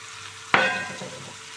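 Ripe tomatoes, onion and green chillies hitting a hot oiled pan: a sudden loud burst of sizzling that fades into a steady, softer frying crackle.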